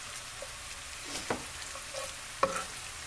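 Chicken and golden onions sizzle in a pan with spices, a soft, steady frying hiss with a few light clinks and taps of a spoon against the pan.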